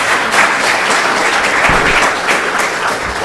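A conference audience applauds a panel of speakers, with loud, continuous clapping that fills the room evenly throughout and no speech over it.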